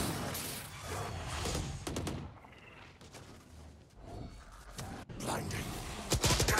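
Bursts of gunfire and impacts in a Valorant match, dense rapid shots with thuds and game effects, loud and close, repeating in clusters with only short lulls.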